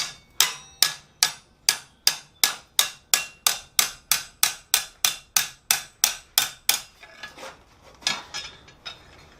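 A hammer strikes steel tong stock bent around an anvil horn in about twenty sharp, evenly spaced ringing blows, then slows to a few softer, irregular hits at the end.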